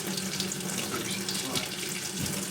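A bathroom tap runs steadily as the water warms up, a constant broadband rush with a faint sink-filling tone, close and unbroken, with no talking over it.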